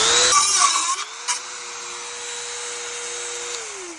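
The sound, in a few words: grinding out bolts while fitting a Ford Maverick shifter console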